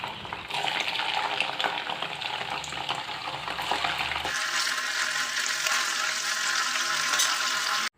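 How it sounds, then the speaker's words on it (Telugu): Paneer cubes fry in oil in a pan with a steady, close sizzle and occasional stirring scrapes throughout, briefly louder and brighter near the end. "ఇప్పుడైతే పన్నీర్ క్యూబ్స్ని కూడా ఇందులో వేసుకొని కాసేపు వేయించుకొని తీసుకున్నామండి"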